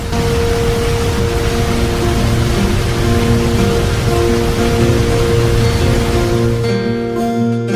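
Heavy rain pours down in a dense, loud, unbroken hiss, with faint steady tones humming beneath before the sound cuts off abruptly near the end.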